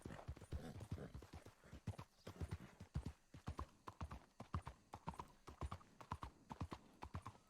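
Horse hooves clip-clop in a video game, a brisk, even run of sharp hoofbeats at close range that continues steadily for several seconds with no talk over it.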